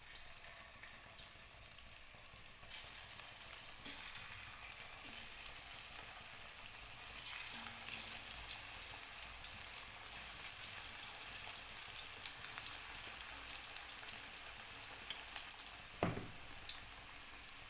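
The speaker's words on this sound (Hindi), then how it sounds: "मीडियम फ्लेम पर हमने इसको फ्राई करना है" Cauliflower florets coated in spiced gobi masala fry in hot oil over a medium flame, giving a steady, full sizzle that runs throughout with a brief louder crackle near the end; no one speaks.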